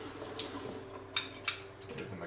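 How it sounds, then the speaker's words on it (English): Tap water runs steadily into a sink as hands are rinsed, a close, even splashing hiss broken by a couple of brief louder splashes. "I'm gonna rinse that stuff off my hands"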